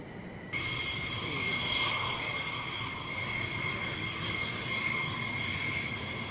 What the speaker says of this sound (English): What a fabulous display. The Israeli F-15 from RAF Waddington.